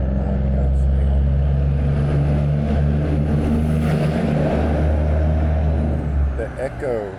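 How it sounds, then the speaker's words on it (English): A big truck passes on the Fall Line Freeway near an overpass, a loud, steady engine drone that swells and then eases away, with someone talking over it. "There's a big truck coming behind me"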